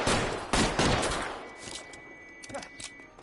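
Gunfire in the video game L.A. Noire, a 1940s crime drama: a dense burst of loud, overlapping shots in the first second and a half, then fading to sparse scattered reports and clicks.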